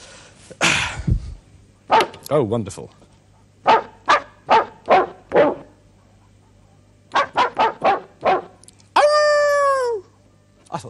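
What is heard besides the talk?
sampled dog barks played on Fairlight CMI computer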